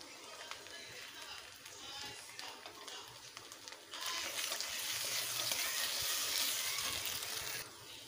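Cumin and dry chilli paste added to a pan of soybean and potato curry, faint frying with scraping stirring, then a louder, steady sizzle that swells midway and holds for several seconds.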